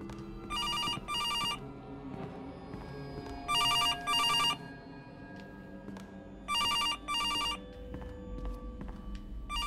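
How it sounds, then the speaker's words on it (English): A telephone rings in the horror video game Case: Animatronics, sounding in three clear pairs of electronic bell bursts over a quiet, low ambient background. "I hear a phone, but I don't see a phone."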